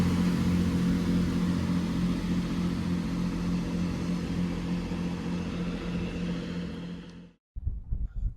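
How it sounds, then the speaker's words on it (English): A Chiltern Railways Thames Turbo diesel unit, 165006, pulls away with a steady loud engine drone and rumble that holds for about seven seconds before cutting off abruptly, followed by faint low noise. "There goes my train."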